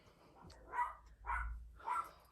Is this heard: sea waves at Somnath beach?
no